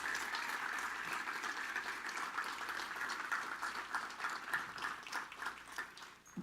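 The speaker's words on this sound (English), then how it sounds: "Let's give a big round of applause." A crowd of summit attendees claps in a conference room, steady broadband applause that holds evenly and thins slightly toward the end, with no voices over it.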